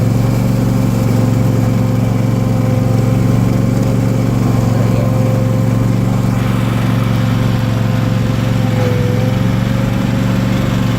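A 2016 John Deere X570 lawn tractor engine runs steadily while still a little cold, a loud, constant low drone with a whining hum riding on top, unbroken for the whole stretch.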